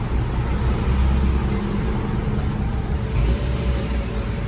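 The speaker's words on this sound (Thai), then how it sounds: "เครื่องยนต์ก็จะตาร์ทติดนะครับ" A Mazda Tribute's engine idles after a push-button start, a steady low rumble close by and unbroken for several seconds, with no talking.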